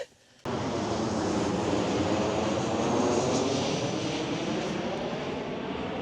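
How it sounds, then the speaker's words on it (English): Aeroplane passing over Donington race track, a loud, steady broadband roar that swells slightly and holds throughout after a brief quiet opening. "you've got aeroplanes going over like that."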